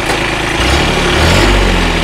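A tractor engine runs close by at a steady, loud idle with a continuous low rumble, the throttle apparently nudged up slightly partway through.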